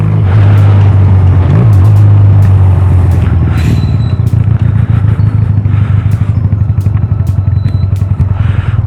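Honda Rebel 250 motorcycle idling and running steadily with a low engine drone, then shifting gears as the clutch is pulled in and released, with some mechanical clatter and ticks heard close up.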